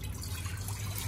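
Water pouring into a cooking pot to make brine for pickles, a soft, steady low rushing fill heard close and alone for about a second.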